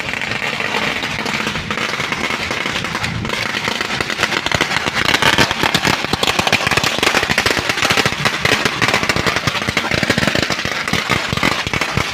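Firecrackers set off on a Chinese worship day in Thailand, a dense, loud stream of rapid cracking bangs that runs continuously for the whole stretch, with an engine humming faintly underneath.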